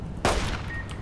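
A pistol shot fires in the Fallout: New Vegas video game, one sharp loud report with a brief echoing tail, standing alone without talk.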